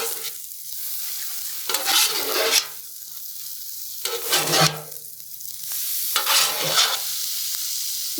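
Chicken fried rice is stirred and tossed on a Blackstone griddle with ginger added: a steady sizzle broken by three loud bursts of scraping and frying as the spatula works the rice.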